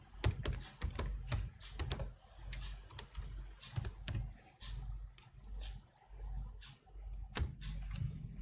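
Commands are typed on a computer keyboard during computer networking practice, with quiet irregular bursts of key clicks and a few sharper taps, close and alone.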